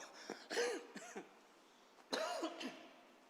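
Two short bursts of coughing and throat clearing break out during a Portuguese church sermon, each a quick cluster of harsh rasps separated by a quiet pause, fairly faint in a hushed room.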